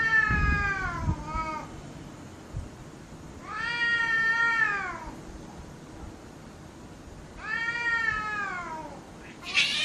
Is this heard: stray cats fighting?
yes